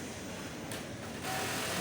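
A machine that cuts and stitches top elastic runs with a steady mechanical whir and hum, which gets a little louder and busier partway through. It is close and continuous, with no talk.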